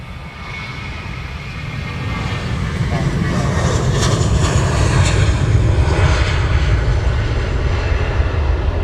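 A DHL cargo aircraft flying the downwind leg past Luton Airport in the early morning, its loud, deep engine roar swelling steadily and holding close, with a voice talking over it.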